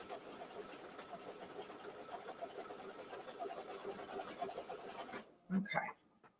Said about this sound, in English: So the thing with an embroidery machine, instead of you moving the fabric,